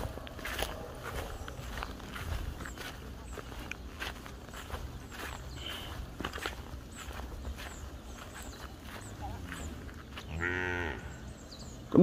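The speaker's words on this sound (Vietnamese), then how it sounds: "Con bê nhà ai đẹp ghê nhỉ?" A calf moos in a loud, drawn-out bellow near the end, following soft footsteps and rustling on an open farm plot where cattle are tethered on grass.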